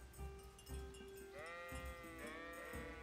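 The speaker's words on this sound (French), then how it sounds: "Bah oui, il y a des moutons." Sheep bleating near a sheepfold in the medieval game Kingdom Come: Deliverance, a couple of drawn-out wavering bleats over a low steady rural ambience, fairly quiet and somewhat distant.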